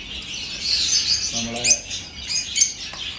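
Small caged birds, including sparrows, chirp and tweet at a Sharjah pet market in short bright bursts, with a person talking nearby.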